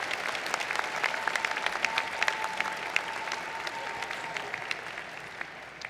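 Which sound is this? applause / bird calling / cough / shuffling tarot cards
applause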